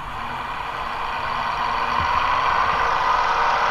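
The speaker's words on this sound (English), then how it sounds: "ECU itself will start the regeneration process by increasing the engine RPM." Mahindra Jayo DI3200 BSVI light commercial vehicle diesel engine raising its idle speed during DPF regeneration, a steady close mechanical hum with a broad hiss, growing slightly louder over a few seconds.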